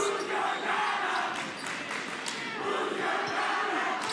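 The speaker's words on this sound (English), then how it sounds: "I love that chant. I know you hear that." A basketball arena crowd chants steadily and loudly throughout, a dense roar of many voices with rhythmic swells, no individual speech standing out.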